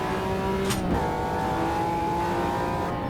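McLaren F1 LM GT1 race car accelerating hard in Automobilista 2, its engine note rising loud and steady with a quick gear change partway through and a faint tire squeal, no talking.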